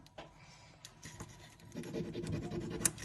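A tiny felt-tip pen is pressed hard against paper while writing, giving close, dry scratching strokes in short irregular bursts that grow denser and slightly louder toward the end.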